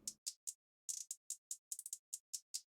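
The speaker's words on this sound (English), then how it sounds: "the hi-hats are actually a loop. It's the industry trap loop from Cymatics," A trap hi-hat loop from Cymatics ticks alone, crisp bright closed hats in a syncopated pattern with quick rolls and stutters between steadier hits, dry and close.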